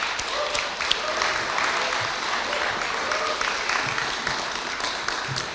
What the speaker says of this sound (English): So a round of applause for our candidates.